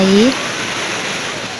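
Mae Koeng Luang, a large seven-tiered waterfall, gives a steady rushing wash of water beneath a brief spoken voice at the start.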